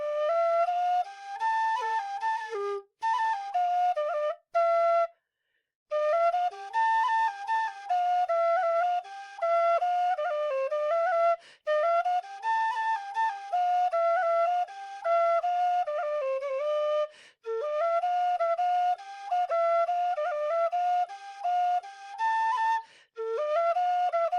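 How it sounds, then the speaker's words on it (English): Low tin whistles, including a Kerry Thunderbird, play a continuous melody of clear, breathy, sonorous notes. The tune moves steadily with brief pauses for breath, heard alone and close up. "Specifically, the lower notes are really sonorous and beautiful on these whistles."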